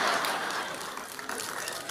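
A church audience at an online GSJS Jakarta service breaks into a short burst of applause, with laughter and chatter mixed into the clapping.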